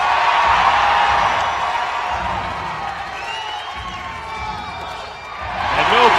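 A large arena crowd at the CrossFit Invitational weightlifting event roars and cheers in a sustained, loud wash of voices that dips slightly midway, then swells again.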